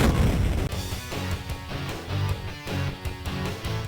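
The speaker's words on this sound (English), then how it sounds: "Chuck the bomb in the little gap, detonate it, and voila!" A pipe bomb explodes against a wall in a video game, starting with a loud booming blast that gives way to dense rumbling debris and a rhythmic game soundtrack for several seconds.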